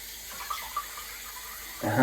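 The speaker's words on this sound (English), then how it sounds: "cold water's on. I'm just rinsing off the top plate" Cold tap water runs steadily from a faucet while a Razorine Premium Special bright nickel safety razor's top plate is rinsed, giving a soft, even hiss with small splashes and a louder surge near the end.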